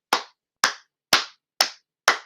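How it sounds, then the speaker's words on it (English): Five crisp hand claps, evenly spaced about half a second apart, close and loud against silence. "just clap it, man."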